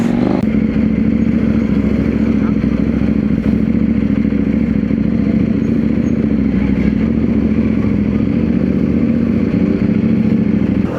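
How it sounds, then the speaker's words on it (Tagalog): A motorcycle engine runs loud and close, holding a steady, throbbing idle with a mechanical clatter and no talking throughout. "So dito natin dinala yung motor ni Simon the Great."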